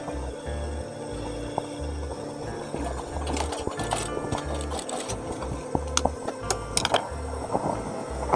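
A sewing machine stitches a 1 cm shirt cuff in quick motor bursts that start and stop in an uneven rhythm, close up and fairly loud, with light fabric handling between runs.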